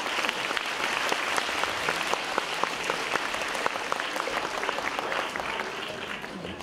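An audience claps at a children's song festival in Blagoevgrad, a dense, sustained round of applause with many close hand claps, steady in loudness for several seconds and fading slightly at the end.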